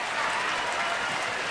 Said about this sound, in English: His teammates applaud.